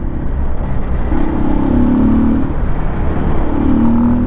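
A motorcycle with a perimeter frame revs close up as the throttle is opened twice, each rise swelling into a strong, sustained engine roar over a steady idle rumble.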